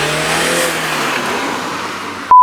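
A passing car's engine revs and roars by close at hand, loud and steady before fading, then cuts off abruptly into a brief tone.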